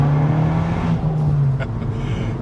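An Abarth 695 Rivale with a Garrett turbo revs hard, its engine note loud and close, rising and holding steady for a couple of seconds, with a faint whoosh near the end.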